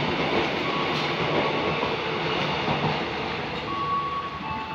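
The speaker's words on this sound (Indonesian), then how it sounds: "Nah, ini ada kereta airport ya." An airport rail-link train passes through Sudirman station, a steady loud rolling rumble of wheels on the two tracks with faint rail squeal, continuous and close, no talk.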